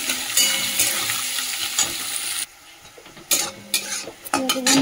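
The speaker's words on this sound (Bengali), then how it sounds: "পেঁয়াজটা দিয়ে দিলাম। তাহলে পেঁয়াজটা লাল করে ভেজে নিই।" Chopped onions and a bay leaf sizzle loudly in hot oil while a utensil stirs and clinks against the pan, with a brief quieter dip midway before the scraping resumes.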